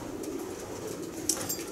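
Racing pigeons in a loft give soft, low cooing over a quiet room tone, with a brief rustle of wings near the end.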